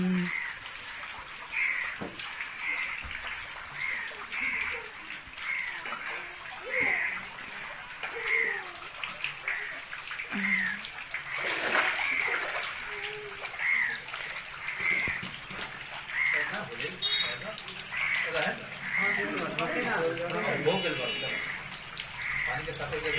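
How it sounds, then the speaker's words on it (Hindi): Hands are washed with water at a home during a Hanuman flag and puja ritual, with steady splashing and trickling running throughout while people talk over it. "चल हाथ धो, बढ़िया से धो।"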